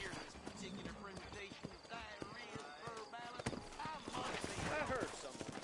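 Rhythmic clip-clop of horse hooves trotting in Red Dead Redemption, with gunfire-like cracks and a busy, game-like soundscape layered around them.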